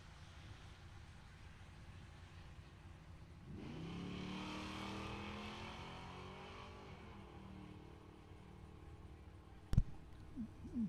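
A Ford LTD and a 1996 Mustang drag race down the strip at a Super Pro bracket event, their engines a distant droning roar that swells and fades, followed by a couple of sharp knocks near the end.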